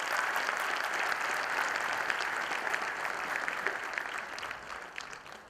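An audience at a BAPS HR conference applauds Professor T.V. Rao, a dense, steady wash of many hands clapping that carries on throughout and fades slightly toward the end.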